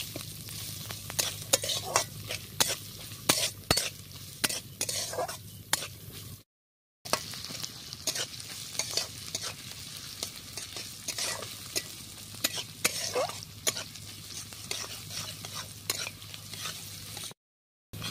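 Ginger, garlic and coconut fry together in a pan with a continuous close sizzle and crackle, punctuated by frequent sharp spatula scrapes and taps, broken by two brief silent gaps.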